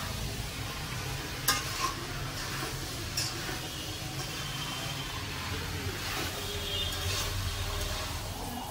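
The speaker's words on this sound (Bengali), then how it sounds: "বাঁধাকপির পাকোড়া ভাজবো" Cabbage pakoras frying in hot oil, a steady dense sizzle with a few scraping stirs or spoon clinks, close and continuous for several seconds.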